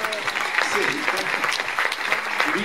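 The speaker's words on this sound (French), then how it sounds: "Allez, on applaudit." An audience claps steadily at a sports club champions' gala, a dense, even patter of many hands with a few voices mixed in.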